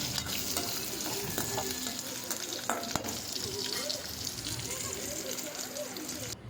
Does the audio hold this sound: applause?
no